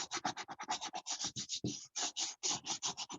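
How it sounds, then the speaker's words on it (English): Quick, rhythmic scratching strokes scrape dried salt off a watercolor painting on paper, a close, soft rasping repeated in steady back-and-forth bursts with short pauses. "As long as I can hear that noise, I know I'm taking salt off."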